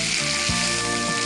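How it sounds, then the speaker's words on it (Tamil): Ginger paste and green chilli sauté in a pan, giving a steady, close, even sizzle with no talk. "இது கொஞ்சம் நல்லா வதங்கணும்."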